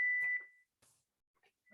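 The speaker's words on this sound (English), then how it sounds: "that's the timer for the jackfruit curry." A kitchen timer for a jackfruit curry gives one sharp, high electronic beep that rings briefly and fades, followed by a few faint kitchen clicks and taps.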